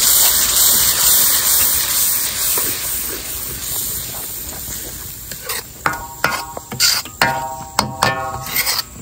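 Chilli paste and meat curry powder frying in oil in a pan for chilli crab, a steady broad sizzle with scraping stir strokes growing louder and more frequent toward the end, no voices.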